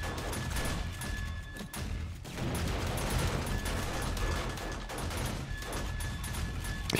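In-game explosions go off in the air during a zombie horde fight in the survival game 7 Days to Die, a dense stretch of repeated booms and crashing blasts with no pause.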